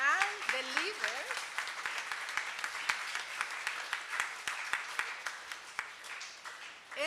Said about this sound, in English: a second round of applause for yourself and the leaders